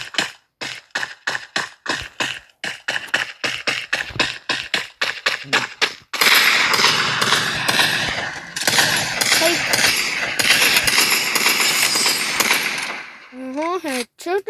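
Gunfire from the Free Fire battle royale game comes first as a rapid string of sharp, separate shots. It then turns into a dense, sustained burst of automatic fire with clattering impacts, and a few brief electronic tones come near the end.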